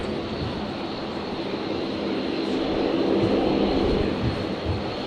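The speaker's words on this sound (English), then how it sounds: "Qantas 545 at the moment, the 73 just about to rotate" A Qantas Boeing 737 rolling down the runway at Brisbane Airport just before rotating for takeoff, bound for Sydney, its engines giving a steady, fairly loud roar that swells slightly midway.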